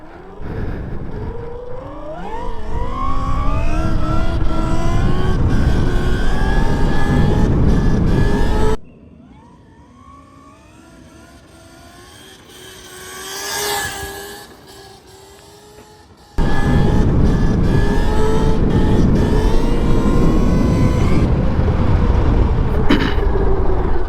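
A mini dirt bike screams past at full throttle in a flyby wheelie, its high buzzing engine climbing in pitch, dropping out abruptly, then a distant whine swelling and fading before the loud engine returns close by.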